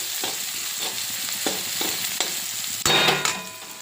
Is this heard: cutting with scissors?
no